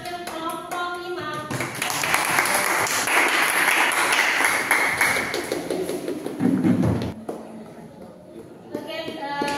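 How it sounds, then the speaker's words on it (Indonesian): A classroom audience applauds a presenting student group, with a burst of scattered claps and taps that swells and then fades, and a voice talks before and after it. "Tepuk tangan untuk penampil kelompok 5."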